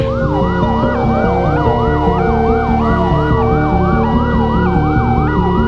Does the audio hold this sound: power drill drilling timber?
no